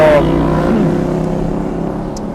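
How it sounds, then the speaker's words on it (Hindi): A motorbike engine drones close by, a low throbbing rumble that slowly fades away. "बाइक का काफ़ी शोर था"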